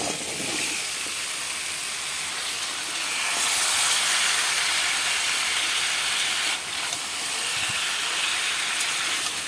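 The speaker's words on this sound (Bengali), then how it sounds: "মশলাটা কষানো হয়ে গেছে, এবার কাটা সবজিগুলো আমি দিয়ে দিচ্ছি।" Chopped vegetables going into a pan of cooked-down spice masala, a steady loud hiss and sizzle that swells midway and runs on without talk.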